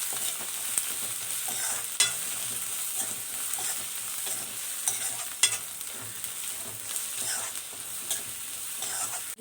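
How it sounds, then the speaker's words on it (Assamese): Masala being stirred and fried in a pan for rohu fish curry, with a steady close sizzle, scraping stirs and a few sharper clinks of the spoon against the pan throughout. "মছলাখন ঘুলি ল'ব লাগিব।"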